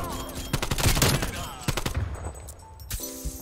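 A rapid run of close gunfire in Call of Duty Cold War crackles in quick bursts during the first half, then tapers into scattered shots and game ambience.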